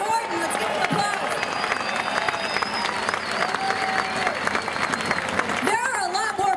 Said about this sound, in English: Ken Horton, let's give him applause